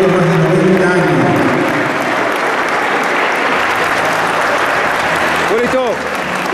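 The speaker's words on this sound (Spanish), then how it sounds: "quiero pedir un aplauso para Iris Pamis" An audience at a lunch gathering of a library and sports club commission bursts into sustained, loud applause, a dense wash of clapping that holds for several seconds, with some crowd voices mixed in.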